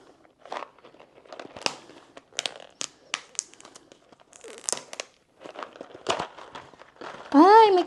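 Plastic packaging of a glucose test kit being opened and handled, giving irregular crinkles, crunches and tearing bursts close by, followed by a brief voice at the end.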